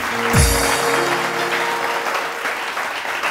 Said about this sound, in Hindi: तालियां तो बजाएं